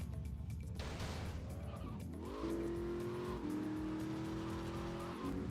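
A Lamborghini Countach in GTA Vice City revs up, its engine note climbing in a steady rising whine and then holding at high speed, loud and continuous, with a brief tire screech early on.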